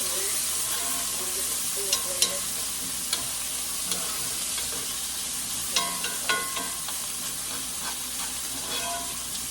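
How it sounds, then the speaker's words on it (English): Onions sizzling steadily in a hot pan as they are stirred, with occasional light clicks and scrapes of a utensil against the pan, close and moderately loud. "Give it a stir around."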